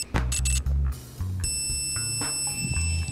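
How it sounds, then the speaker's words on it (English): Multimeter continuity tester beeping as its probes touch contacts during electric bass pickup wiring, a steady high electronic tone sounding over low handling noise and a sustained background hum. "it tests continuity by making a beeping sound if you contact two contacts"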